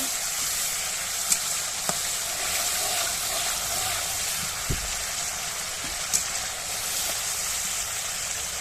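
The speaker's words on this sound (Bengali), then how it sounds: "ভালোভাবে মশলাটা কষিয়ে নেব" Spice paste of turmeric, coriander powder and salt frying in a pan, a steady broad sizzle throughout with a few faint clinks of stirring, no voices.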